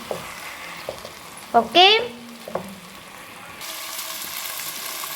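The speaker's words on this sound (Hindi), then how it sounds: "अच्छी तरह से मैंने भुनाई कर दी है। ये जो है प्याज वगैरह ये अच्छी तरह से गल चुके हैं।" Onions fry in a pan for an okra dish, giving a soft, continuous sizzle with a few stirring knocks and scrapes close by; a voice briefly speaks a single word partway through.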